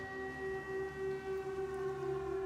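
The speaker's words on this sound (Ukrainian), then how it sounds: "Ось голосно заголосила сирена." Air raid siren wailing over Kharkiv, a steady sustained tone with harmonics sounding from a distance and moderately loud, with no speech over it.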